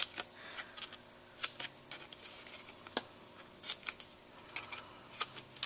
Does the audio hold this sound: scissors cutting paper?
yes